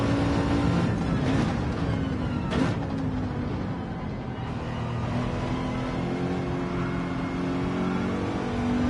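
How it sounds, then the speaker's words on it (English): An AMG Group 4 race car in Gran Turismo 7 accelerates hard, its engine a loud, steady, buzzing drone that holds close throughout, with a brief change in pitch near the start. "Hard on the accelerator."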